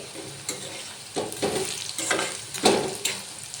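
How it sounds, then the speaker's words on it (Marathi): Young bitter gourd (karela), seeds removed, frying in oil in a home kitchen: a steady close sizzle with repeated stirring scrapes and clinks every half second or so, no talking. "तर बघा, छान असे तेलामध्ये धुत आहे कारले."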